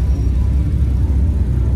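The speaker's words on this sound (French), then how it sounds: "Là on est sur une V12 vintage qui est très belle" A vintage Alfa Romeo V12 car engine running at Place Vauban, a steady low rumble close by and fairly loud, with no clear revving across the short stretch.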